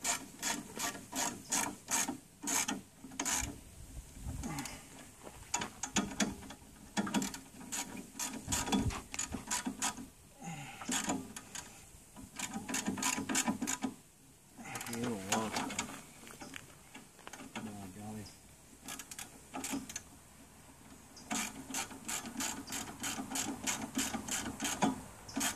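A ratchet clicks in rapid bursts while tightening bolts on an off-grid Jeep, close and fairly quiet, the runs of clicks broken by short pauses and scraping handling noises; no talking.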